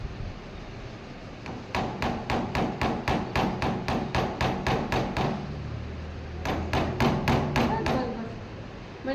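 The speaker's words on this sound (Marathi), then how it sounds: "आता दुसऱ्या बाजूने ठोकून पहा." Repeated hammer blows driving a nail into wood, about a dozen sharp evenly spaced strikes, then a short pause and a second quicker burst of blows, close and loud.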